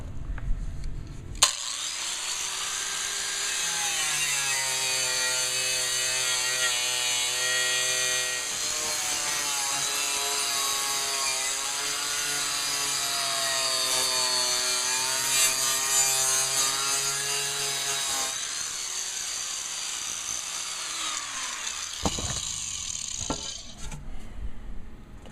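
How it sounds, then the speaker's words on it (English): Wire wheel stripping a decal off a metal rear flapper on a hoe, a loud continuous whirring grind with a steady tonal whine that holds for about twenty seconds, then winds down. "It's gonna go by way of the wire wheel."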